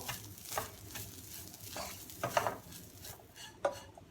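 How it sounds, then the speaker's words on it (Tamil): Grated coconut is roasted and stirred in a pan for Seven Cup Burfi, giving faint, soft scraping strokes at an irregular pace with a light sizzle underneath. "ஸோ நம்ம இதோட இந்த 1 கப் தேங்காய் பூவையும் இதில் சேர்த்துருவோம். இதையும் கொஞ்சம் ரோஸ்ட் பண்ணிப்போம்."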